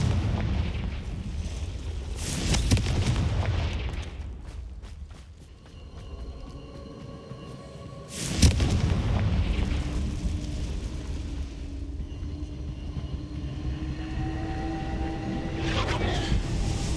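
The Confringo blasting spell in the video game Hogwarts Legacy bursts with loud, close explosions that rumble deeply, the first near the start and another sharp blast around midway, each followed by a long rolling roar.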